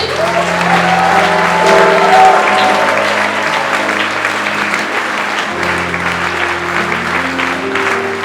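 Congregation applauding at a Rwandan church service with Pastor Desiderata, steady dense clapping from a large crowd filling the whole stretch, loud and continuous with faint voices mixed in.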